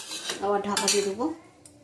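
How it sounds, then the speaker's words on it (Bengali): A metal lid goes onto a cooking pot of milk chicken with a bright ringing clank and a short scrape, close and alone, fading quickly. "আবার ঢাকা দিয়ে দেবো।"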